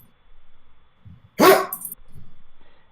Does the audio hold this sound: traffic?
no